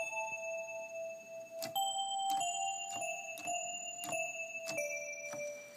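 Bright bell tones strike in a steady rhythm inside a simple hip hop beat, ringing out roughly every half second over sustained synth tones and a low backing layer.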